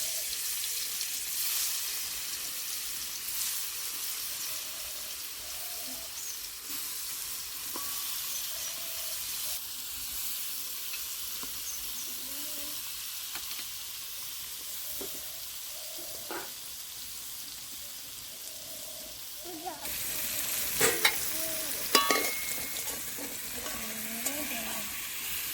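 Paneer coated in salt and turmeric sizzles in hot oil, a continuous close crackle with scraping stirs throughout, growing louder and busier toward the end with a few clattering utensil knocks.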